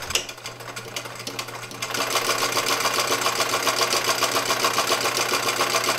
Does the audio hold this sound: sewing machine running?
yes